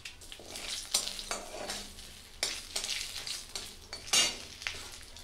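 Whole spices, bay leaf, cardamom, cumin, cinnamon and cloves, fry in hot oil with a soft crackling sizzle punctuated by several sharp spatula clinks and scrapes against the pan.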